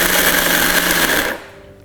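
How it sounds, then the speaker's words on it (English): A mixer grinder blitzes almonds in its jar, a loud, harsh whirring grind that runs steadily then cuts off abruptly and fades to quiet near the end. "the almonds in the mixie jar, I'm going to blitz it for a minute"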